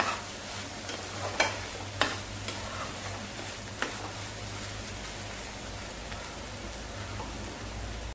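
Masala sautés in a pan with a steady, rain-like sizzle and crackle, broken by a few sharp clinks of a spoon stirring against the pan, close and continuous.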